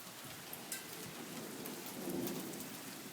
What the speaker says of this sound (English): This is some of the loudest lightning I think I've ever heard.